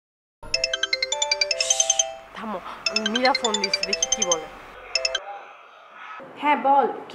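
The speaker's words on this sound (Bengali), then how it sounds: "ফোন দিচ্ছে, দেখি কি বলে।" A mobile phone rings for an incoming call with a bright, repeating electronic melody of stepped tones, loud and close, while a voice speaks over part of it.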